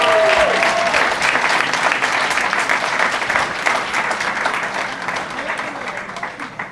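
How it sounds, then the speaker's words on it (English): A round of applause at a masquerade gala, with a loud, dense crowd clapping that stays full at first and then gradually tapers off. "Let's give them a round of applause."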